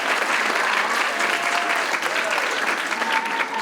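Steady, enthusiastic applause from a sizeable audience at an arangetram dance recital fills the whole stretch, dense and even, with a few faint voices mixed in.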